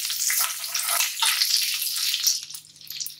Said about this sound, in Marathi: इथे मी टाकतोय एक बारीक चिरलेली हिरवी मिरची आणि त्याचबरोबर हे आल्याचे काप बारीक चिरलेले आणि चांगलं मिक्स करून घ्यायचे